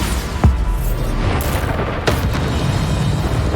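Bombarda explosion spells go off in the video game Hogwarts Legacy, with a heavy booming blast near the start and a second burst about halfway, over a dense, loud rumbling game mix.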